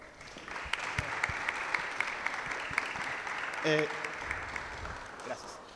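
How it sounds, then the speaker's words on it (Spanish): Audience applause for panel guests at a sports communication talk, a dense, steady patter of clapping from a seated crowd lasting several seconds, with a brief spoken interjection near the end. "Un aplauso, por favor."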